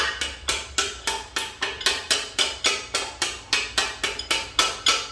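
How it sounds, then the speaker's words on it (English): A brass punch struck by a hammer taps a bearing into an M5R1 transmission: light, even metallic taps, about three per second, each ringing briefly before the next. "just lightly tap on the bearing."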